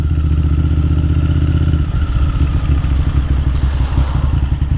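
A Honda VTR motorcycle's engine runs steadily close by, a loud, deep, lumpy V-twin throb that holds at idle, then shifts to a busier, slightly higher-pitched beat partway through, with no talk over it.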